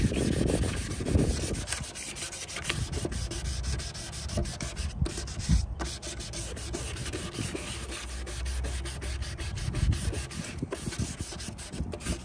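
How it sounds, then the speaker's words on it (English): A car headlight lens is wet-sanded with 500 grit sandpaper, producing a steady, close scratchy rubbing that runs continuously with rhythmic back-and-forth strokes and no talking. "and keep on sanding"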